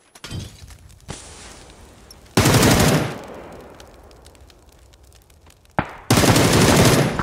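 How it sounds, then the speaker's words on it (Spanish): Loud bursts of automatic gunfire from a video game, two sustained volleys separated by quieter stretches with a few isolated shots. "al fin alguien le dispara"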